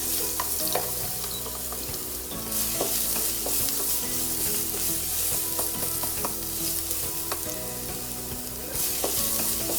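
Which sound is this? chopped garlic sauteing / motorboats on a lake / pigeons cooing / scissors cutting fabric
chopped garlic sauteing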